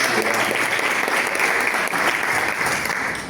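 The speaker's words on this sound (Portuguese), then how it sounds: "Você pode aplaudir o Senhor?" A church congregation applauds during a family worship service, dense steady clapping filling the room at moderate loudness, with a faint voice or two barely audible beneath it.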